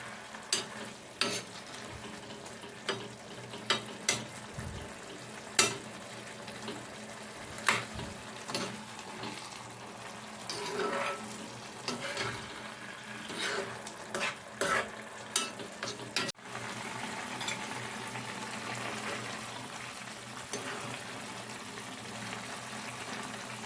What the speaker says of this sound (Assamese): এয়া ধুনীয়াকৈ উতলি আছে